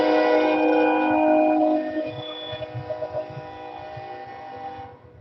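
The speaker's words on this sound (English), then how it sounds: "gotta love the train." A passing train sounds its horn in a long, loud, steady blast with rich harmonics, which fades out into the rhythmic clatter of wheels and cars rolling past nearby before dying away.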